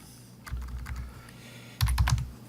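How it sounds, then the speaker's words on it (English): Keys on a computer keyboard tapped in two short bursts of quick typing, close and clear, with a pause between them and no talking. "So if I were to type something in here"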